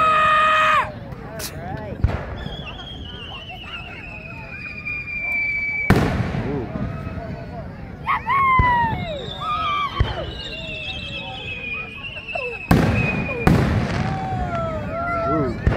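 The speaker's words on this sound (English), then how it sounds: "If you know the names of these types of fireworks, say something in the comments." Fireworks burst overhead in a handful of loud booming explosions spaced several seconds apart, with whistling streaks and crackle between them and a crowd murmuring in the background at a summer display.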